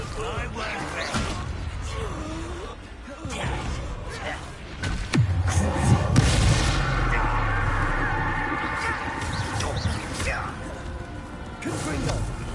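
Spell blasts in Hogwarts Legacy combat crack and crash amid whooshes and mechanical clatter, with a heavy booming impact near the middle, all under game voices shouting.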